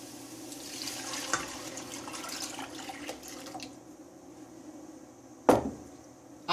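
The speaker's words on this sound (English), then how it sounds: "I'm going to moisten it with my water." Water poured into a pot of split peas and sweated vegetables for pea soup, a quiet running trickle, then a brief loud splash near the end.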